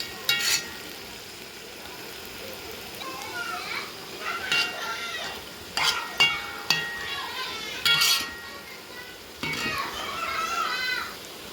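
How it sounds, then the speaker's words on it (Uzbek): Macaroni pilaf ingredients fry and get stirred in a pan in a home kitchen, a soft steady sizzle under intermittent utensil scrapes, while someone talks and children's voices chime in over it. "2 minutga qovurib olamiz"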